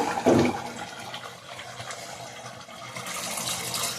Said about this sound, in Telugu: ఇప్పుడైతే ఇదిగోండి చింతపండు పులుసు అయితే పోస్తున్నాను నేను